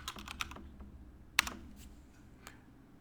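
Quick, light keystrokes on a computer keyboard, a short burst of clicks at the start, a sharper single press, then a few scattered taps, close and fairly quiet with no talk.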